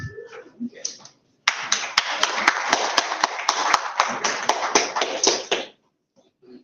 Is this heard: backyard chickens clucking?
no